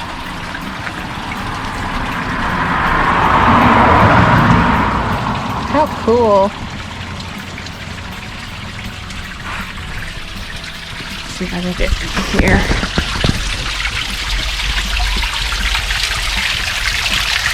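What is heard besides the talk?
natural spring water flowing down rock in Moab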